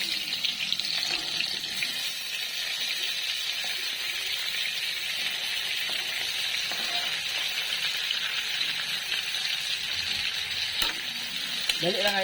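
Fermented fish paste (ginamos) fries in a pan with tomatoes, a loud continuous close sizzle with occasional stirring scrapes throughout.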